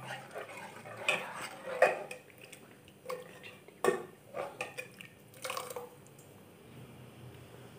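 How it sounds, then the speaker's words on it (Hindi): A spoon stirs dried fenugreek leaves, spices and chili into cold moong dal in a pot, giving soft wet squelches and scattered metallic clinks against the vessel, close and quiet with no talk. "अभी बस इनको अच्छे से मिक्स कर दूँगी।"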